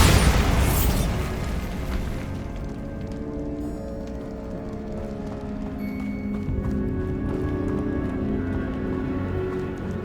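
The Bombarda blasting spell detonates in Hogwarts Legacy, a loud close boom with a crackling burst up front that decays into a long rumbling, ringing tail, with no talking.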